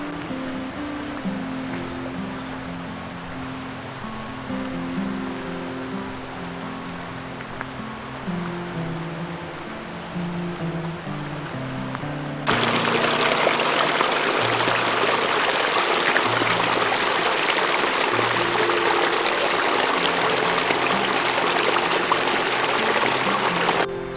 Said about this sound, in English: It goes right alongside the Oconoluftee River. Get to hear the river sounds.